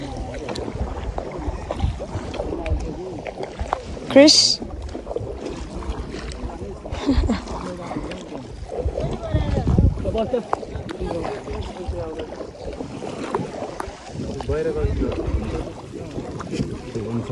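A boat ride on Rara Lake, with wind and water movement around the boat and people talking throughout, plus a brief louder bump near the middle.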